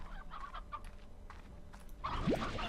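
Hens from the Slime Rancher video game give a few short clucks with light game sounds around them, ending in a louder burst of clucking and a rising chirp.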